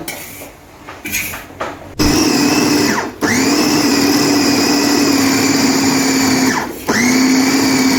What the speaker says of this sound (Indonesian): Ini blender khusus daging. Hasilnya lembut seperti pentol.